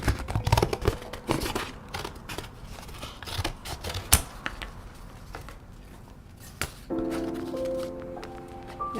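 Scissors cut craft material for Darth Talon horns in half, giving several quiet, close snips and crinkly rustles, with a steady faint hum toward the end.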